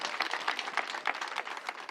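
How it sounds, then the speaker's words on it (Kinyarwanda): Applause from guests at an expensive wedding in Musanze, Rwanda: a dense, steady patter of many hands clapping, with small swells, lasting a couple of seconds and fairly even throughout. "Wakomera amashyi nta kibazo."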